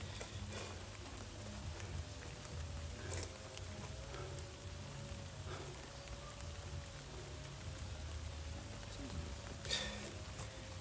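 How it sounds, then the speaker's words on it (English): Rain falls outdoors in a steady, continuous patter. A few louder drops or splashes stand out now and then against the even wash of sound. "it's raining"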